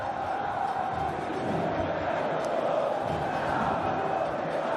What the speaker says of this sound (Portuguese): Veja aí a torcida do Vasco. O torcedor está acreditando.